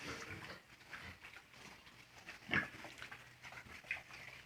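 Pigs on an Assam pig farm give faint, scattered grunts and snorts, with one sharper, louder squeal near the middle against a quiet background.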